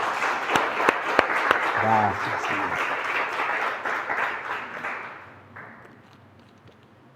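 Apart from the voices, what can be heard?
congregation applause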